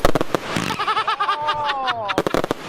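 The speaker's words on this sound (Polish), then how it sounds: "dawaj na te fajerwerki" Rapid crackling firework pops and bursts, with whistling tones rising and falling in between, as a voice calls out in Polish over them.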